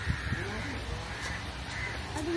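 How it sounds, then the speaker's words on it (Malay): Birds call at Zoo Johor, with crow-like caws and honking cries over steady outdoor ambience, a few short calls early and later, fairly distant. "Ada burung."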